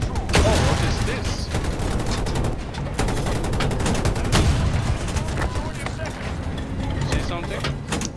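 Battlefield 2042 combat: dense, loud, near-continuous gunfire with rapid bursts and occasional heavy booms, running under a player's talk throughout.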